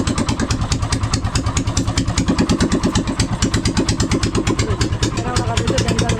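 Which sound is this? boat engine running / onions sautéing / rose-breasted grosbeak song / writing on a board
boat engine running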